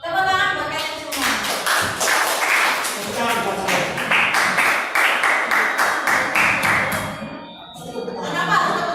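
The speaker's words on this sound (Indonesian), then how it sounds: "Tepuk tangan buat kalian semua" A classroom of students applauds together, a dense, loud burst of many hands clapping that holds steady for several seconds before tapering, then briefly swells again at the end.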